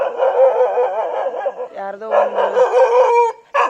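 A pet dog near a house at night barks and yelps in a quick run of loud, close calls, with a brief word spoken partway through.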